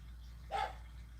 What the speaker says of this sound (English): Silence this dog. He won't stop.